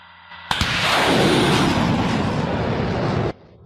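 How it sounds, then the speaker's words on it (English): A sharp blast followed by a sustained roaring whoosh of a HIMARS rocket launching, loud and close, lasting a few seconds before ending abruptly. "They once more turn the vehicle around and finally launch the first rocket."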